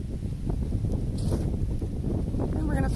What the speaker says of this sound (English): We're getting blown away by the wind.